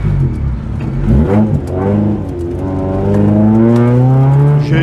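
Rally car engine accelerating, a loud close roar rising steadily in pitch with gear changes, continuous over several seconds with no talk.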